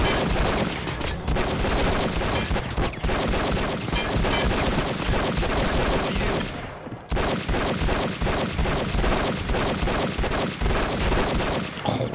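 Dense, continuous gunfire from the Enter the Matrix video game, with overlapping bursts and shots packed throughout, briefly dipping once before the loud barrage resumes.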